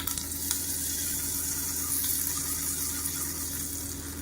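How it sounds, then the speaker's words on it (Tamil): Hot oil tempering of mustard seeds, urad dal, dried red chili and curry leaves poured into a coriander leaf chutney, giving a steady close sizzle with faint crackles and no talk. "கடுகு உளுந்து வரமிளகா கருவேப்பிலை போட்டு தாளிச்சதை கொட்டிடுறோம்"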